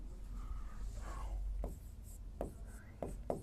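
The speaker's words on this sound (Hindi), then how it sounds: "बहुपद की परिभाषा लिखते हैं।" Writing out a polynomial definition by hand, giving soft rubbing pen strokes and a few sharper taps in short bursts, close and fairly quiet.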